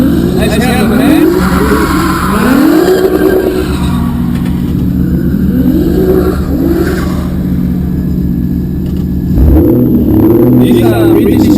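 A Toyota car engine revs in repeated rising sweeps, loud and close, with a steady low idle drone between pulls and a final surge near the end; voices are faintly present under the engine.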